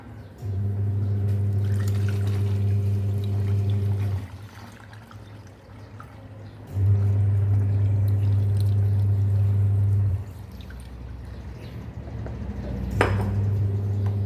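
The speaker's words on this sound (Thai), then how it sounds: "นี่ครับแล้วก็จะนำมาใส่ขวดฟอกกี้นะครับ" Rice-washing water is poured into a spray bottle in a kitchen, with two long steady pours broken by a pause, a hollow trickling stream that gurgles as the bottle fills, ending with a light clink.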